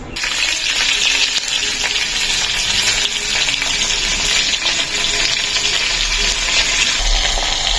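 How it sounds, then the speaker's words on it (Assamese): Rohu fish pieces rubbed with turmeric and salt sizzle vigorously in oil in a karahi, a loud, continuous crackling fry with occasional spatters and no talking. "এইটো কেৰাহীত মাছ ভাজিছোঁ"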